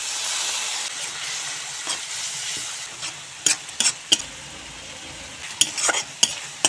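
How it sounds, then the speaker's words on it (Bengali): Turmeric, chili and cumin powders sautéed with a little water in a pan, a steady soft sizzle and hiss with scattered sharp clinks and scrapes of a spatula stirring, growing busier toward the end. "এখন অল্প জল দিয়ে মশলা ভালো করে কষিয়ে নেব।"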